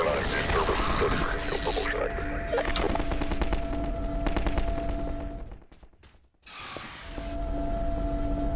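Rapid automatic weapon fire in Half-Life 2 rattles loudly, dropping out for a moment, then resuming alongside mechanical clatter, with players talking over it.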